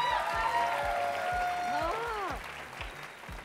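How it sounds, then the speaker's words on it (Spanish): A studio audience applauds on a television talk show, the clapping steady beneath musical tones and a rhythmic beat, with a brief spoken word. "un aplauso para él, por favor."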